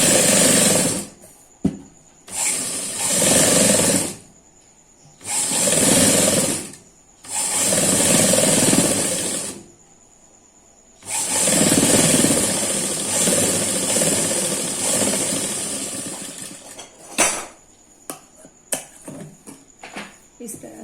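A sewing machine stitching a kurti jacket runs in repeated bursts of rapid mechanical whirring and clatter, each lasting a second or two, separated by brief pauses, loud and close.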